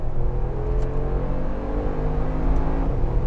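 A Mercedes-AMG G63 accelerates hard from a 50 mph rolling start in third gear and sports mode during a drag race. The engine drones in a loud, steady roar that holds throughout, with no voices.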